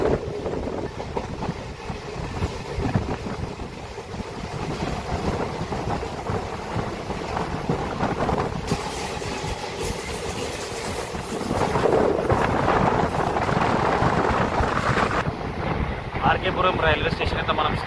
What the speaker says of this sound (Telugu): ఇవాళ నేను డిఈఎంయూ ట్రైన్లో ట్రావెల్ చేస్తున్నాను